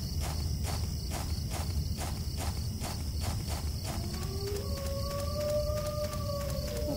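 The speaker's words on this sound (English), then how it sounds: "Okay, I hear dogs." Dogs howling in the Silent Hill 4 game, long wavering howls rising in the second half over a steady rhythmic pulse and insect-like chirring ambience, distant and eerie.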